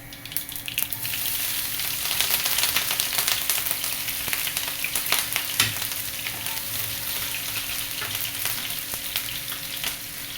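Green chillies go into hot oil where mustard seeds have already popped, for a Kerala beef pickle, producing a dense, continuous sizzle with sharp spitting crackles, close by and fairly loud.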